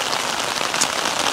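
Steady rain patters densely on a surface outdoors, a loud, even hiss of countless drops with no pauses and no voices.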